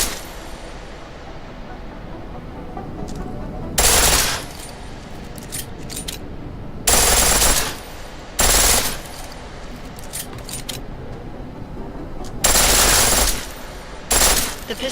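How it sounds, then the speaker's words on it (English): A pistol firing full auto in Rainbow Six. Loud, rapid bursts roughly a second long are separated by quieter stretches of background noise, with about five bursts in all. "The pistol in full auto will take down targets fast, but it'll burn through your ammo."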